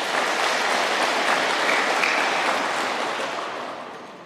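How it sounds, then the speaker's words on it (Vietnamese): An audience at a Buddhist dharma assembly claps in a dense, even wash of applause that holds steady and then gradually thins out toward the end. "Bây giờ mới vỗ tay"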